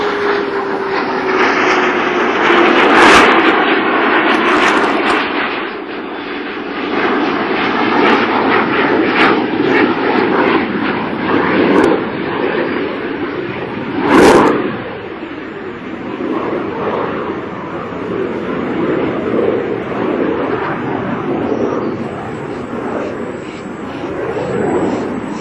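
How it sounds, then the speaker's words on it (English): Space Shuttle Discovery rolling out on runway 15 at Kennedy Space Center after landing, a loud sustained rumbling roar with a falling whine, a couple of sharp bursts and faint background voices. "Discovery rolling out on runway 15 at the Kennedy Space Center"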